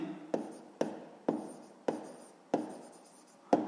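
A pen or pencil writes out a sixth-grade math solution on paper, six sharp strokes landing in an even rhythm about half a second apart, close and clear with no talking.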